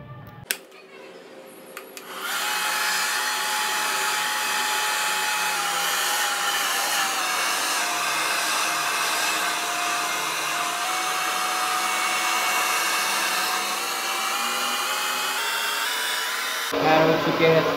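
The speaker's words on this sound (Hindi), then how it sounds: "It's my dryer and then my com, let's start it for the hair style." A hair dryer used for hair styling switches on after a couple of seconds of quiet handling and then blows in a loud, steady close-up whoosh for about fifteen seconds before cutting off.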